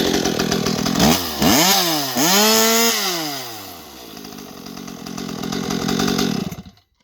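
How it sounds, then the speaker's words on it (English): A Stihl MS261 chainsaw fitted with a CPI racing exhaust revs hard out of the wood, its pitch climbing and falling through a few sharp blips before settling into a loud, close high-rpm scream that cuts off abruptly. "Rev it up a little bit for us when it's not in the wood."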